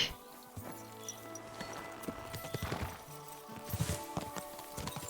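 Horse hooves clip-clop at a walking pace in Kingdom Come: Deliverance II, over a busy background of game sounds, with a brief horse whinny mixed in.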